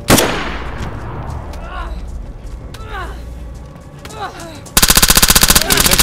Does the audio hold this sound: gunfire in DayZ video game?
yes